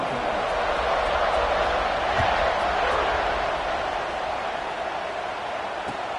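Football stadium crowd in a video game, a broad, steady roar of cheering fans filling the whole stretch, with no distinct claps or shouts standing out, fairly loud and constant.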